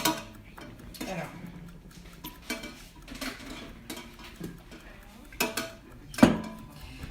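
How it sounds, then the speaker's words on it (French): A spoon dipped in hot water and handled among dishes, giving scattered light clinks and taps with one sharper ring near the end, faint and close in a quiet kitchen. "J'ai mouillé ma cuillère."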